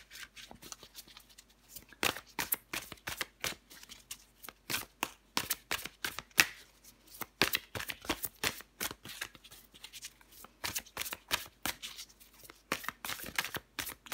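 Tarot cards being shuffled in a steady series of quick crisp riffling bursts and slaps, close and clear, with no talking over them.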